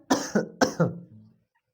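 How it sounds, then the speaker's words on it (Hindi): A person coughs several times in quick bursts, close and fairly loud, then it trails off into quiet. "थोड़ा खांसी आ गया बच्चों, कोई बात नहीं है।"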